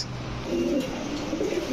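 Pigeons cooing at a pigeon farm, soft low rolling coos repeating close by over a faint background hum.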